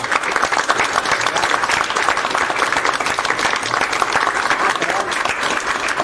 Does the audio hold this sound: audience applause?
yes